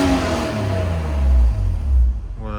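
A warm car engine revs up at a Japanese vehicle auction yard, building in two rising surges of throaty low rumble before settling, close and loud with no talking.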